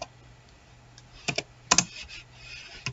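Several quick keystrokes tapped on a computer keyboard while entering text in a Scratch project, close and fairly quiet, in short irregular bursts.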